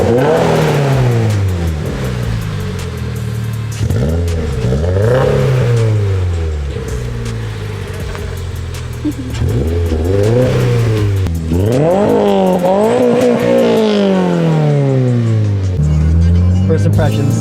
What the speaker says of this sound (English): the car under load sounds a lot better than the car just at a standstill